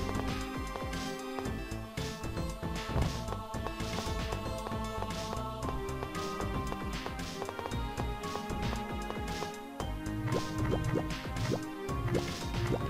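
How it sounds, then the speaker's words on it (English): Water sound effects from the Tales of Symphonia video game at Sylvarant Base, dripping and sloshing liquid over layered game music, continuous and moderately quiet with no talking. "Got some interesting water sound effects"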